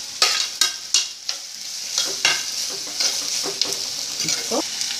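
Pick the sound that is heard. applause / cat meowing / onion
onion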